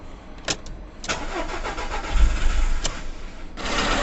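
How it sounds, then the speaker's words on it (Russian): A car engine cranks and catches after repair of rat-chewed wiring, with one injector connector unplugged. Sharp clicks lead into a rough, uneven idle that swells in the middle, heard up close with no talk. "Итак, мы видим, что мотор запустился."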